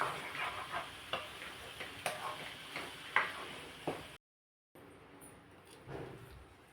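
Grated fresh coconut and sugar are stirred in a pan for coconut wadi, with repeated scraping strokes over a soft sizzle, a brief silent gap, then quieter stirring.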